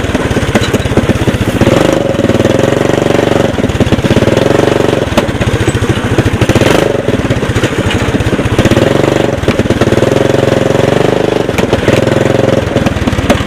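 A Honda-powered UTV converted from a 1988 electric EZGO cart spins donuts on a lawn, its engine roaring loudly and continuously with a rough, pulsing revving, close up and with no talking.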